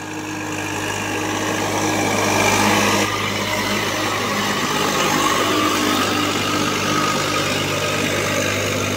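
Swaraj 744 tractor engine working in deep mud, a steady loud low-pitched diesel drone with constant harmonic hum that swells slightly around the third second and holds throughout.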